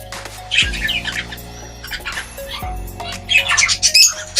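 A pet hen gives loud, harsh squawks in bursts, with some shorter chirps between them, heard close against a low hum of background noise.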